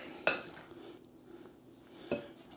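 A spoon stirs meatball and cream of mushroom gravy in a pan. Two sharp clinks of metal on the pan ring out, separated by quiet soft scraping, close and fairly faint, with no voices.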